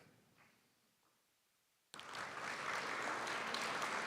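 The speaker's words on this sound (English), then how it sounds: "If you could hold your applause to the end" After a near-silent pause, applause erupts abruptly from the audience at a spring National Honor Society induction ceremony and continues as a loud, sustained burst of many hands clapping.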